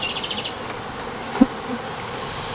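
Honeybees buzz steadily around an open yellow hive during a frame-by-frame inspection, a close continuous hum with one brief sharp knock partway through.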